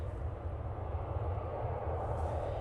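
A Ryanair airliner taking off for Budapest roars steadily with a broad, rumbling jet-engine noise at moderate distance, loud and unbroken throughout.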